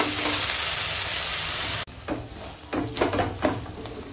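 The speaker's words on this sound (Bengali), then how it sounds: "এখন ওই তেলে তেজপাতা ফোড়ন দিয়ে আর দিয়ে এখন পেঁয়াজ বাটাটা একদম সুন্দর করে ভেজে নেব" Onion paste hitting hot oil with bay leaves gives a loud, steady sizzle that cuts out abruptly, then returns as softer bursts of frying with stirring scrapes.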